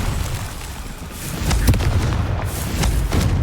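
A Confringo blasting spell cast in the video game Hogwarts Legacy, heard as a sharp burst at about 1.7 seconds and smaller pops later over a continuous low game rumble, with no talk.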